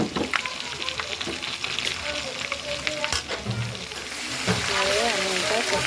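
Onion and spices frying in a pan for a prawn malai curry give a loud, dense, continuous sizzle with occasional spoon scrapes, close up, and a voice talks over it briefly.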